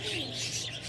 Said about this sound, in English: all different kind of birds